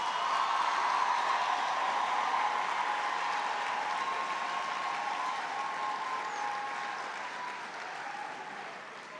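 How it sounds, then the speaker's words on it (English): Sustained applause from a large audience at a university engineering graduation ceremony, a steady wash of many hands clapping that holds for several seconds and slowly tapers off. "let's give our class of 2025 a last round of applause."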